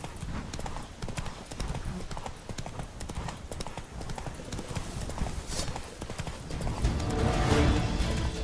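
Hooves of the horse Roach galloping in the fantasy game The Witcher 3, a fast steady clip-clop drumming throughout, close and loud, with a brief voice over it and a swelling rumble near the end.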